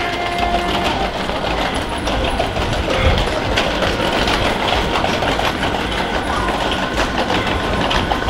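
A steady loud rumble and rattle of a moving train at Heathrow Airport fills the clip, with faint rhythmic clicking and no voices.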